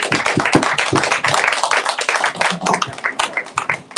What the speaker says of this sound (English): So another round of applause, please, for Judge Davis.